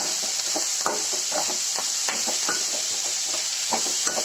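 Ingredients sauté with curry leaves in a pan for pork curry, giving a constant loud hiss of frying with repeated stirring scrapes and utensil clinks throughout, with no talking.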